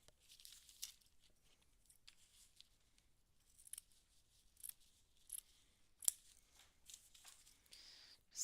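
Scissors snip through paper while cutting out tarot-inspired paper dolls, a series of soft, crisp cuts with light crinkling, close and quiet, one sharper snip standing out near the end.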